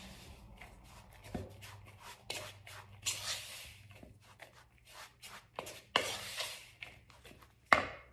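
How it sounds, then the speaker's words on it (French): Ingredients for a keto pizza with a little salt stirred together in a bowl, giving soft scraping and shuffling strokes in uneven bursts, close and fairly quiet, with no talk. "Je mélange tout ça."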